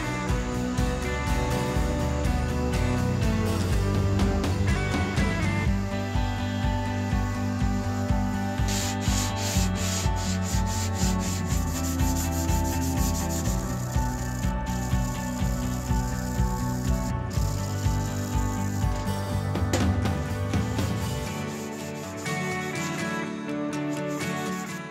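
Sandpaper rubs steadily across a scrap-wood knife block in repeated close, rhythmic strokes as the grits progress from coarse to fine, continuing without pause and heard alone.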